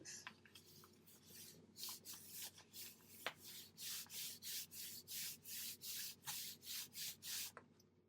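A hand rubs and smooths glued paper onto the back of a curtain haberdashery craft piece, starting with scattered light brushes, then settling into a steady run of about a dozen regular rubbing strokes, close and fairly quiet.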